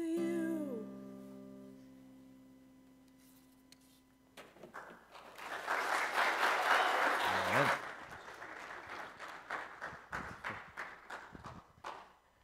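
Clapping for a performer in a church service: after a sung phrase fades, a burst of crowd applause swells, then thins into a few separate, echoing claps near the end.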